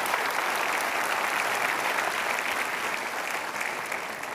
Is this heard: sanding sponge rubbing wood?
no